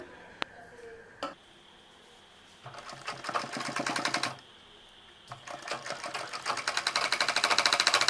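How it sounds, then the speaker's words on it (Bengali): A sewing machine stitching a homemade reusable fabric face mask, running in rapid rattling bursts separated by short pauses, with the stitching speeding up toward the end and no talking. "এই পৃষ্ঠটিকেও আমি এভাবে সেলাই করে নিব।"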